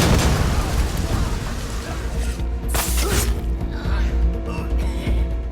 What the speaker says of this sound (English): Guy detonates his homemade bombs